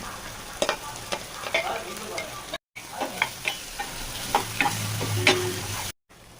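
Onions fry in a pan with ginger-garlic paste and curry leaves, crackling and sizzling steadily, with spatula scrapes and stirs breaking through at intervals. There are two brief gaps of silence.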